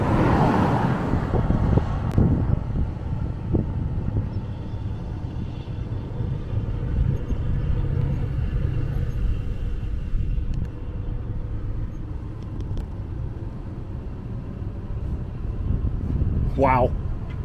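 A van driving on a road into the St. Mary area of Glacier National Park, with a constant low road rumble and wind noise throughout, heard from inside with a few faint clicks and a brief whistle near the end.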